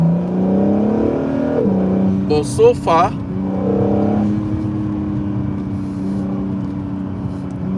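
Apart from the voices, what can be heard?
Honda NSX sports car engine revving during drive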